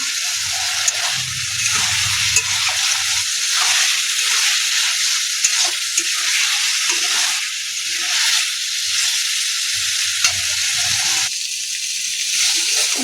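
Chili paste with salt and turmeric fries in a pan, producing a loud, continuous sizzling hiss with occasional soft stirring sounds underneath and no talking.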